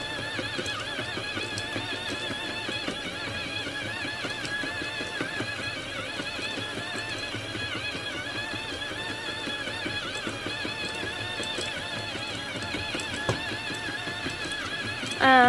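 A steady whirring clatter comes from a Jamit automatic knitting machine as it knits a toboggan cap, the rapid mechanical ticking running evenly and close by, without speech.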